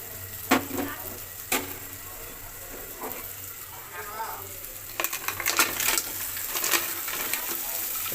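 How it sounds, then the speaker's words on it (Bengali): Pre-fried crabs are added to a pan of sizzling, spiced masala for a crab curry. A steady hiss of frying runs throughout, broken by several sharp clacks and clatters as the shells hit the pan and are stirred. "এখন এর ভিতরে এই যে আগের থেকে ভাজি করে রাখা কাঁকড়াগুলো দিয়ে দিচ্ছি"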